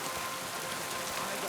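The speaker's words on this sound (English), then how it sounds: "It'd be better if it wasn't raining." Steady rain falls in a medieval video game setting, a dense hiss that fills the short moment with no break.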